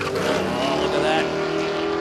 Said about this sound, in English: And Greg Trapnell, he just done one of his best passes of the day